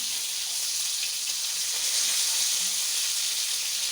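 Food fries in a pan, browning, with a steady, moderately soft sizzle and hiss that runs evenly throughout, with no voices.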